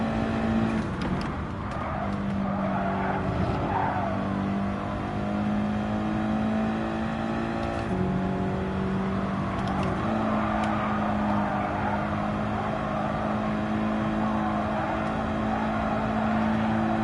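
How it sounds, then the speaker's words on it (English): A race car's engine plays in Gran Turismo 7 as the driver brakes and accelerates through a corner. The engine drones steadily with small shifts in pitch, and no one speaks. "But braking at the same time as accelerating. No lift off the accelerator at all around turn 2."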